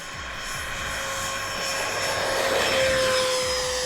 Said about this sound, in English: I didn't do anything but give it throttle, Bobby.